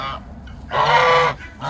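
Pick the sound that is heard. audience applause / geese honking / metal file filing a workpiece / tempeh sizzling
geese honking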